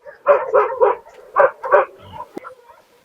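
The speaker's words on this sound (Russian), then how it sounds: "То Антонов начинает гавкать, то они начинают хрюкать." A dog barks close by in a quick run of five or six sharp, loud barks, then a shorter yip and softer whimpering noises.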